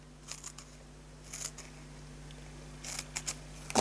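Scissors snip the edges of paper card for a handmade easel card, a few quiet crisp cuts in small clusters, close and soft over a faint steady hum, with no talk.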